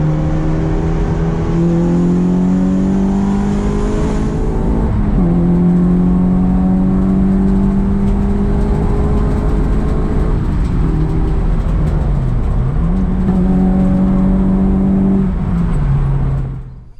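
Peugeot 106 track car on a test run, its engine droning loud and steady with rising and falling revs and gear shifts throughout, close and continuous with no talk.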